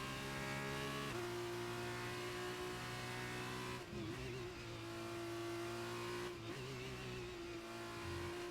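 A Formula 2 race car at Silverstone, a loud, close, high-revving engine whine that holds steady, steps up in pitch, then drops briefly twice as the gears change.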